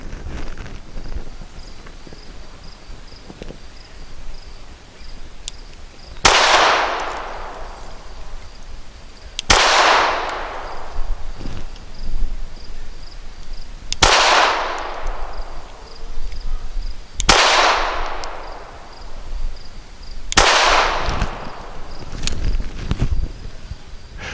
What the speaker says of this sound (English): I'm gonna be shooting at the left circle target on top of the other circle targets.